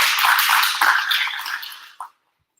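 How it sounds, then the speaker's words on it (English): An audience applauds Team ArctikCircle at a startup launch at MSU. The dense, hissing wash of applause is steady, then fades and cuts off abruptly after about two seconds, leaving silence. "So a big round of applause for Team ArctikCircle."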